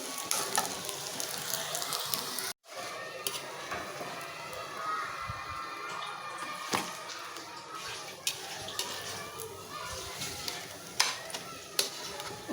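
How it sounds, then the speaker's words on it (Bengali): Bread dipped in egg fries in a pan, a low steady sizzle with scattered clicks of a spatula and pan knocks, mid-distance and fairly quiet, with a short break partway through. "এই জন্য ভেজে নিতেছি পাউরুটি দিয়া ডিম।"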